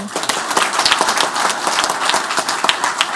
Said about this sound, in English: if we could just give them a round of applause too